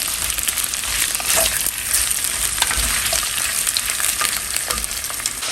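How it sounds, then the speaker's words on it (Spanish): Three sliced onions frying in oil in a saucepan, a steady, dense sizzle and crackle that holds close and even throughout with occasional brighter pops. "En una cacerola con aceite vamos a agregar 3 cebollas. Así son rodajas y vamos a dejar que se fríe"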